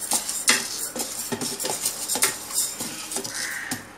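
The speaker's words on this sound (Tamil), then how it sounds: "பேன் சூடான உடனே இந்த பருப்பு பாசி பருப்பை வந்து இதில் போட்டுக்கோங்க, ஃப்ரை பண்ணுங்கள்." Dry moong dal stirred in a hot pan on the stove, heard as close repeated scraping and clinking of a spoon against the metal pan in an uneven rhythm, with no talking.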